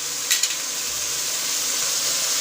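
Tomatoes and spices fry in a pan with a steady, close hiss and crackle of sizzling oil, joined by a couple of brief scraping knocks near the start.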